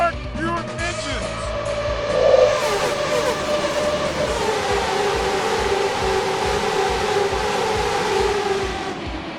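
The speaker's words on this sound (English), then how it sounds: "Gentlemen, start your engines!" Race car engines in the Assetto Corsa racing game drone steadily and loudly with a rising rev near the start, while a voice talks over them throughout.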